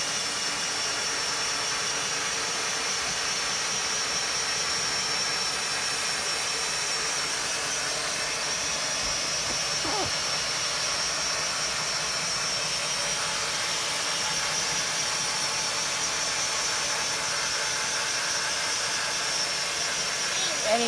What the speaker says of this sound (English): the drill's going to come through the outside wall here